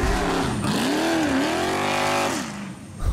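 Old race car engine at the Goodwood Festival of Speed, revving hard with rising and falling pitch sweeps, loud and close, then fading as it moves off, no voices.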